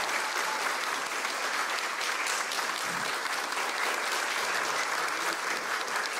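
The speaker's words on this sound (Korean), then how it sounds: "여러분 큰 박수 부탁드립니다." Sustained audience applause at a Korean baseball award ceremony during a trophy and flower presentation, a continuous even roar of many clapping hands with no pause, moderately loud throughout.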